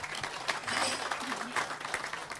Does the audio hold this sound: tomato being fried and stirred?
no